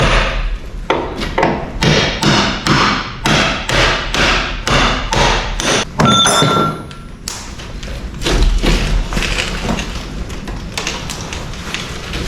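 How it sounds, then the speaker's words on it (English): Sledgehammer beating a rusted hood on a West dual spreader in a workshop: a rapid series of heavy metallic thuds and taps, close and loud, with a short pause midway before the blows resume. "I had to beat it violently with a sledgehammer for a little bit"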